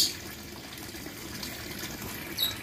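Water gushes hard and steadily from the outlet of a 4-inch PVC hydraulic ram pump, a continuous close-up rush with no pauses or surges.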